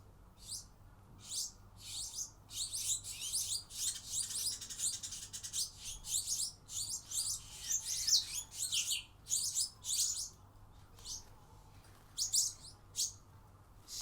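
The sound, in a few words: several birds being fed, chirping loudly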